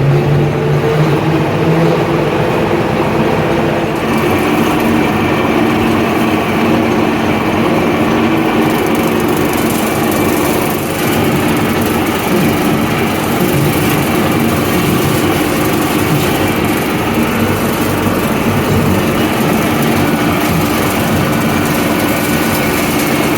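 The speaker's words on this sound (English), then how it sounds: "Now we'll engage the PTO. All right, now we'll raise the RPM." A tractor engine runs loud and steady with a brush hog mower engaged through the PTO, the revving drone holding constant throughout, close up and with no talk.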